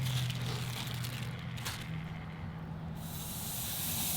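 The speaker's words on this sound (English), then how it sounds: "Slight sizzle." A steady, soft sizzling hiss of a burger dog cooking on a Kamado Joe Jr. grill at about 450 degrees runs throughout, with a low hum underneath and no voices.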